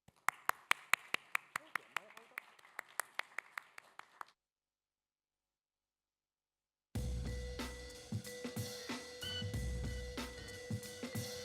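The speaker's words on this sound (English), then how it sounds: "Let's give a round of applause to Professor Xin" Sharp, regularly spaced hand claps from a forum audience welcome a professor, about four seconds of crisp applause, then silence, then a dense stretch of louder amplified sound with talking.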